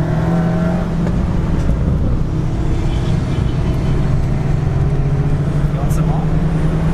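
A 500+ horsepower Volkswagen Golf R track car at Queensland Raceway gives a steady, loud engine drone from inside the cabin, sustained throughout with constant road and wind roar and no clear gaps.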